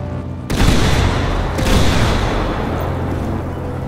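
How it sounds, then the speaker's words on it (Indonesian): Loud explosions and rolling gunfire from a GTA 5 zombie survival game erupt suddenly after a quiet start, a heavy blast followed by continuous booming and crackling shots that sustain to the end. "Kok meledak sih sekarang dunia ini?"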